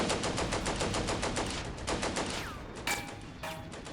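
Machine gun fire in the Combat Mission: Barbarossa to Berlin war game, loud dense bursts of rapid automatic shots for the first couple of seconds, then scattered single reports with a whistling shell and ringing impacts as the firing thins out.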